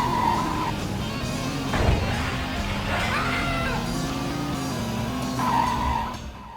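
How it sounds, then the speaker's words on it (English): A car from the original PlayStation Grand Theft Auto screeches with tire skids over a buzzing, synthetic engine drone, with a sharp thump midway and a trailing squeal near the end. "The cars sound like they came straight from the Star Wars universe."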